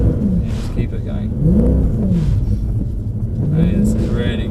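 A Black Series car drifts on a track, its engine rising and falling in pitch as the throttle goes on and off in repeated surges; the loud, close, steady rumble runs under a voice.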